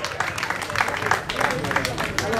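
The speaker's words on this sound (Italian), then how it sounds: "Un applauso ai nostri amici della S5" Crowd applause at the prize ceremony of a road race, the 2nd Coppa Calanna in Laganadi, a steady wash of clapping hands lasting throughout, fairly close, with voices mixed in beneath.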